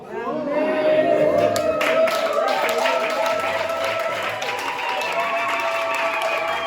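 A church congregation at a French-language worship service claps and cheers in acclaim of Jesus Christ, a steady, dense wash of applause and crowd voices with music tones running underneath throughout.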